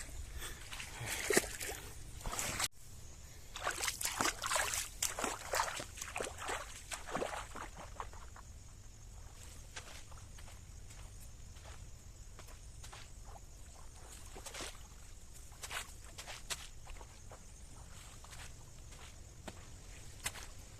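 Wading knee-deep through water in a muddy farm field: soft sloshing, splashing steps and wet patter, busier at first and then sparser, low and close amid steady outdoor background.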